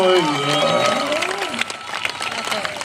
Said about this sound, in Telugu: చప్పట్లు కొట్టున్నాయా ప్రభు కోసం